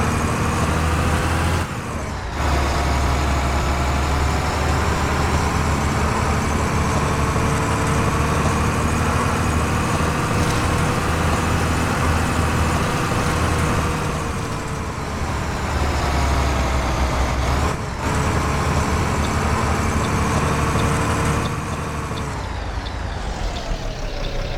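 Caio Apache S21 bus engine in the OMSI 2 simulator, a loud sustained diesel drone that rises and falls through repeated revs with a couple of brief gear-change dips, heard close and alone without talk.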